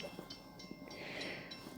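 A grain train rolls past at a rail-side spot, a soft continuous rumble with faint squeals and periodic rattles from the cars, fairly distant and quiet.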